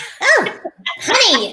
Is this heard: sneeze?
yes